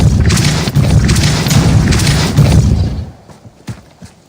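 The Depulso spell is cast in Hogwarts Legacy, giving a loud, dense, booming whoosh for about three seconds that then drops away to a few scattered thuds and clicks.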